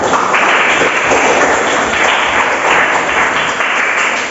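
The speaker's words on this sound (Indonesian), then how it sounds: "Oke, tepuk tangan dulu untuk kita semua." A classroom group applauds during a school lesson, with loud, dense, steady clapping from many hands that fills the whole stretch without pause.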